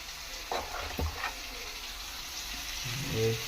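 Poha being fried in a pan of hot oil with chili and spices gives a steady, soft sizzle, with a few clinks and stirring sounds and a louder bubbling burst near the end.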